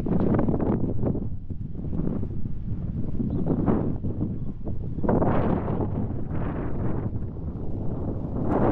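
Strong wind buffets the microphone in continuous low roaring gusts at the Ani ruins near the Armenian border, swelling and easing throughout with no voices.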